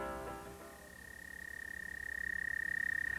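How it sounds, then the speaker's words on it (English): A frog calls on its own at fairly low volume: a short run of croaks gives way to a steady, sustained high trill that swells slightly louder toward the end. "Voices of Missouri Toads and Frogs"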